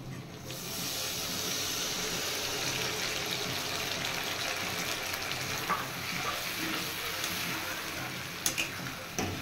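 Rinse water from a plate that held paneer hits a hot pan, setting off a loud, sustained hiss and sizzle that churns steadily for several seconds, with a few faint utensil clicks near the end.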